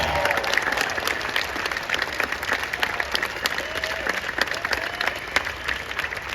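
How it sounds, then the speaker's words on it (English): Audience applause at a Starry Starry Night event, a dense sustained clapping crowd close and loud throughout, with no speech over it. "Let's give one big more round of applause."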